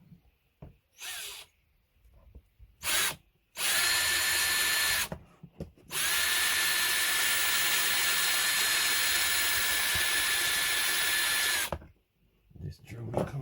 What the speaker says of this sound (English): This drill is coming like it's useless.